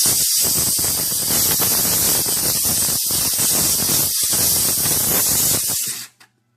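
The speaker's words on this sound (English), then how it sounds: "I can show you the steam power that's coming from this" A McCulloch MC1385 deluxe canister steam cleaner blasts steam in a loud, close, continuous hiss with brief flutters, lasting about six seconds before cutting off abruptly.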